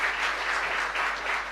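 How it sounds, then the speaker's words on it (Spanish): Congregation applauding inside a chapel during a live-streamed service, steady dense clapping at moderate volume for the whole stretch, with no voices over it. "también un aplauso para ellos."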